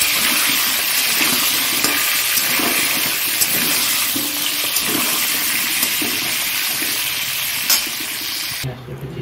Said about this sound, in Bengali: আলুটা ভাজা করে নিলাম